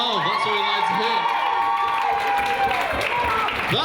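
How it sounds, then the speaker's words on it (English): Audience at a student sports and activities colours awards ball cheering and applauding before any awards are given, a loud continuous crowd roar with whoops and shouts, talk mixed into the noise. "Good old round of applause, and no awards have even been given out yet"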